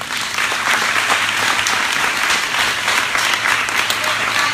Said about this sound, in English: Can you clap it up for them, you guys?